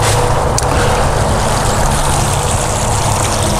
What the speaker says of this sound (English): A lot of water streaming over those rocks,